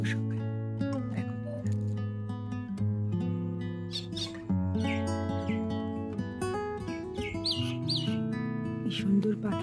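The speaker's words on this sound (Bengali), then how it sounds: "কি সুন্দর পাখির ডাক, গ্রাম্য পরিবেশ" Birds chirping and calling on a rural morning near Balasore, Odisha: scattered short tweets, louder in the second half, over a steady droning tonal background, with occasional quiet voices.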